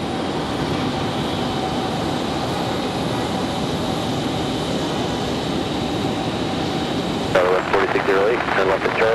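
An Alaska Airlines airliner arriving at Raleigh-Durham airport gives a loud, steady broadband engine roar throughout, with a brief burst of rougher, louder noise near the end.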